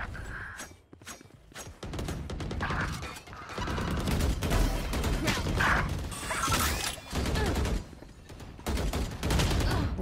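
Rapid video game gunfire crackles in loud dense bursts along with mechanical clicks and reload ratcheting, close and steady across most of the stretch, with short quieter breaks.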